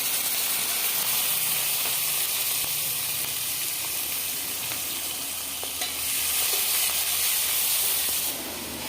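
Dried red chillies, chopped green chilli and chopped tomato frying in hot oil, a dense steady hiss and sizzle with scattered pops and crackles, close and continuous for about nine seconds, with no voices.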